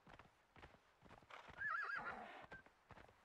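Horse in Conan Exiles, rhythmic hoof clops at a steady trot, then a loud whinnying neigh swelling in the middle before the clopping resumes, fairly close.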